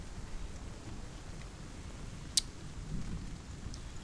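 Steady rain with a low rumble of thunder in the Hellblade: Senua's Sacrifice video game, a soft continuous wash with a single sharp crack partway through.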